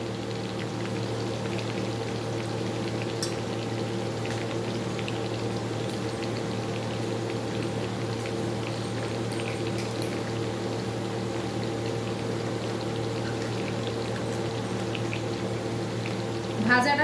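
Potatoes and pointed gourd fry in a pan with a steady, continuous sizzle and bubbling hiss that holds at an even level throughout, close by and with no talking over it.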